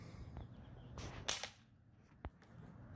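Airsoft gun fired in short full-auto bursts at bleeding targets: a quick cluster of sharp snapping shots, then one isolated crack a moment later, fairly close against a quiet outdoor background.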